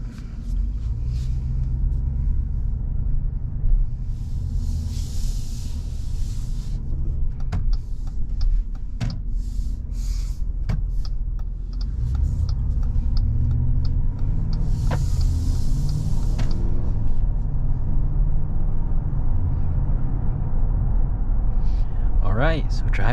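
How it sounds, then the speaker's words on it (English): A 2022 Jeep Wagoneer SUV cruising on the road gives a low, steady cabin rumble of engine and tires, with a few brief clicks and bumps, while someone talks over it. "driving this 2022 Jeep Wagoneer, this thing is seriously comfortable, very nice and smooth"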